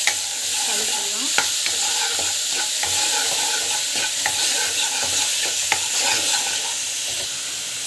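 Ground onion paste with cumin fries in a pan under a constant loud sizzle, while a spoon stirs it in repeated scraping strokes and sharp clacks against the pan.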